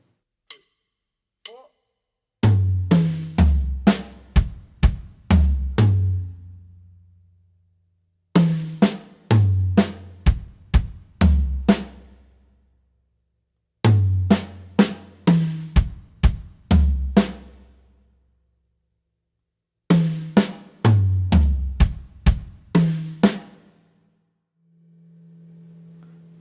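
Beginner-style drum fills on a drum kit, played as four separate bursts of rapid tom and snare strokes with kick and cymbal hits, each burst a few seconds long with short pauses between, ending on a soft sustained low tone.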